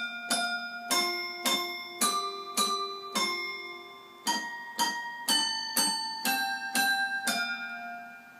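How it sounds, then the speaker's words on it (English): Bright, bell-like metallic notes from a Schoenhut toy piano, hammers striking metal bars one at a time in a steady melody, each ringing briefly with a chiming decay; no voices. "So it sounds more like bells than a traditional piano."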